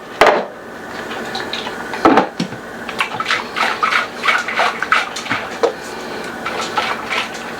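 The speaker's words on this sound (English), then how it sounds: "Rinse out the blender bowl." Water splashes and sloshs in a blender bowl being rinsed in a kitchen, with uneven bursts of swishing and clunks against the container, close and fairly loud.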